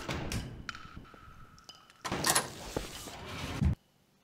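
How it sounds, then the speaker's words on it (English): A door in a room is pulled shut with a sliding rush and a solid thud at the end, a short burst of movement before it, then quiet. "Close the door"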